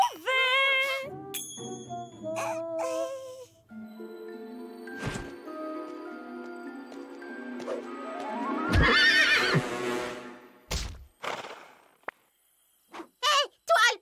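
A cartoon pony neighs: a long, shrill whinny that rises and falls, accompanied by quick clip-clop hoofbeats and other animated sound effects, close and clear.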